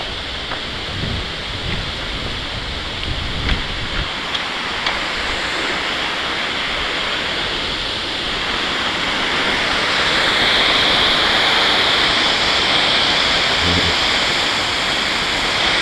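Steady rushing roar of a secret waterfall at Dog Creek in a sheltered rocky spot, broadband and continuous throughout, swelling slightly louder toward the end with no talking.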